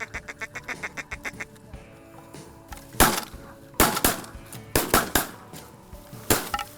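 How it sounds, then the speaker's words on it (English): A run of quick quacks from ducks overhead opens, then several loud sharp gunshots ring out at irregular intervals with faint quacking between them, during a duck hunt. "Here we got ducks right overhead."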